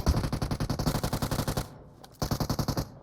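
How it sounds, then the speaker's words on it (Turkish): Automatic gunfire in a PUBG Mobile firefight: rapid, steady bursts of shots with a brief pause, then another burst, loud and close, no talk. "Önümde çatışma var."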